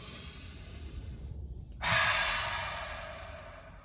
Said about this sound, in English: Literally just take a deep breath. Take a deep breath right out.